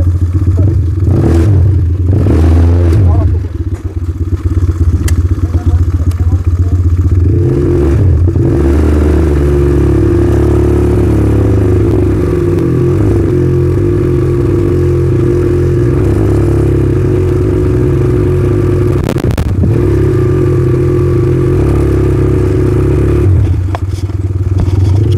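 An ATV engine runs loudly and steadily close by during a ride in Goa, with shifts in revving and some rattling and scraping clatter along the way.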